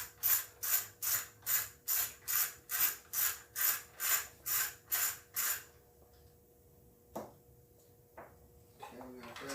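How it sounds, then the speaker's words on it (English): A ratchet removes bolts from a Kohler Pro 5.2 generator with about a dozen crisp, evenly spaced clicking strokes, close and distinct, followed by quiet handling noises and a short bit of speech. "Now you'll remove the two bolts holding the back of it on."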